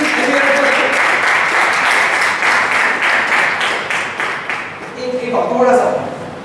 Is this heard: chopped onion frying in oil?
no